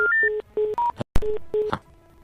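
Telephone line tones play as a call-in radio show takes callers: a run of short, steady electronic beeps at shifting pitches, loud and close, with a sharp click partway through.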